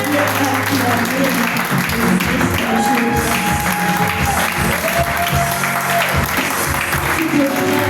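A church congregation applauds and cheers at a lively service, loud dense clapping from a large crowd with voices shouting and singing over it throughout.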